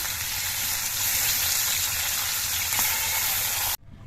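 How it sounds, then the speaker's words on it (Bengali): Pabda fish fry in oil in a pan, making a continuous close hissing sizzle that holds steady for several seconds, then cuts off abruptly. "বাকি মাছগুলো ভেজে নিচ্ছি"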